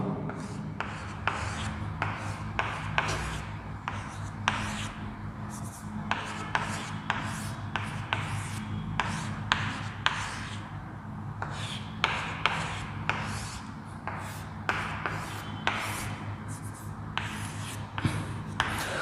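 Chalk or pen scratching out the structure of rhombic sulfur on a board during a chemistry lecture, a steady run of short rasping strokes and taps, close and fairly loud, with no talking.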